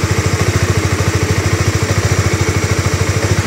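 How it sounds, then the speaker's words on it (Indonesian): A used sport motorcycle engine, a Honda CBR or Yamaha R15, idling close and loud with a fast, even, regular pulsing throb and no talk. "Nah ini mesinnya bisa didengarkan sendiri ya"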